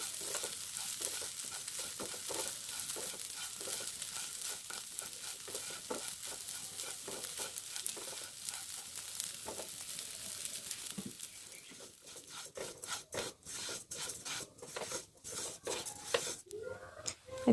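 Rice grains frying in a pan toward golden brown, a soft steady sizzle with faint scraping stir strokes, turning into sparser crackles and pops near the end; quiet and close.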